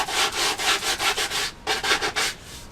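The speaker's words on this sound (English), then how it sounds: "give it some hand sanding" Hand sanding the edges of a wooden guitar body: steady back-and-forth rasping strokes in a quick, even rhythm, close and fairly loud, with a brief pause before the strokes resume.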